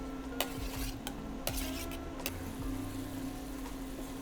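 Charred pineapple, chilies and spices are stirred in pork fat, giving a faint sizzle with soft spoon scrapes and a few light clicks against the pan.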